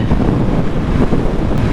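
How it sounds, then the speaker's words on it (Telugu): Loud, steady wind blast roars past the rider of a KTM Duke 390 motorcycle at high speed, a dense unbroken rush with no voice heard. "కొంచెం విండ్ బ్లాస్ట్, నేను టక్కిన్ అవ్వాలి"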